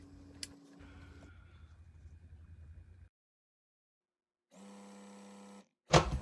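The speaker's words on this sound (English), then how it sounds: "I'm going to go ahead and sew the next 2 strips together" Quilt fabric strips are sewn together on a sewing machine, heard as one steady run of stitching and then a louder short burst, following quieter handling noise and a silent gap.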